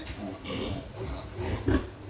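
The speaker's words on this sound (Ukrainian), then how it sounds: "а вже вчора видно було, що вона рохає" A sow grunts in a farm pen shortly after farrowing, giving low, close, rough grunts in short bursts, with one louder grunt near the end. Faint human voices and barn noise sit underneath.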